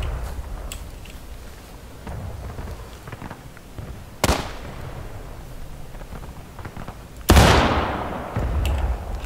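Musket gunfire in a War of Rights skirmish battle, scattered distant pops under a low rumble, with two loud close shots, the second one heavier and echoing.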